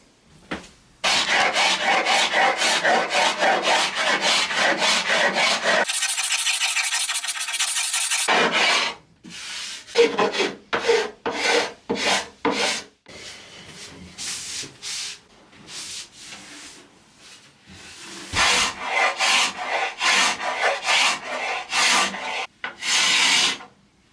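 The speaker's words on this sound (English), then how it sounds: "These sides are a little bit tougher to scrape off" Old finish being scraped off Ercol wooden furniture, heard as long, harsh, rasping strokes in repeated bursts, close and loud, pausing briefly between passes, with no talking.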